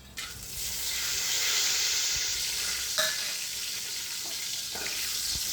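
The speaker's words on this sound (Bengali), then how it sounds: "এবার গোটা মশলাগুলো দিয়ে দিলাম।" Whole spices hit hot oil for chicken biryani and burst into a loud, steady hiss that holds close and even, with a few faint clicks of stirring and no talk.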